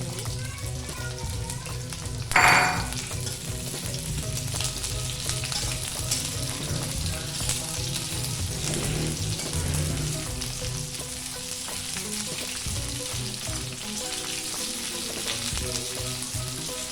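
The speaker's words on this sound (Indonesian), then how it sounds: "Aduk supaya bercampur dengan bawang merah bawang putih. Kita masukin cabai rawit dan cabai keritingnya ya ibu." Chilies stirred together with shallots and garlic in a frying pan for a sweet-spicy jengkol dish, steady sizzling and frying with scraping stir strokes throughout, one sharp clatter early on.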